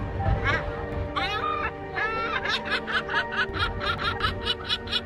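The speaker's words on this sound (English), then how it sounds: "Next is seagull." A seagull lets out a series of loud, nasal laughing cries that come quicker toward the end, with music playing underneath.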